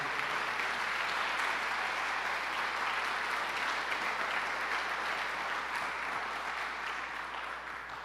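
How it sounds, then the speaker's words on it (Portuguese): A church congregation applauds together in sustained, dense clapping that fills the space evenly, easing slightly toward the end with no voices over it. "aplauda bem forte a palavra de Deus"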